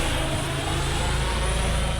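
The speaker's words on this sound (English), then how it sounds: "the drone's really interesting. It's quite loud" Camera drone flying close on a film set, a loud steady droning buzz like a swarm of bees, continuous and unbroken throughout with no talk.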